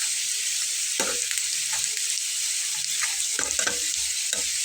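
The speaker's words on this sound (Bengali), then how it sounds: "একটু ঠেসে ঠেসে ভেজে নিচ্ছি" Food being pressed down and fried in hot oil for a Bengali breakfast snack gives a steady bright sizzle, with occasional scraping stirs of a utensil in the pan, close, no talking.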